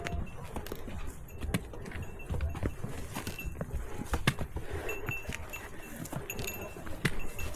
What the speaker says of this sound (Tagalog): Si puting kabayo ba yan, te?